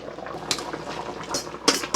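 Water with taro leaves bubbling as it boils in a pot, with a few small metallic clinks and splashes over the steady boil.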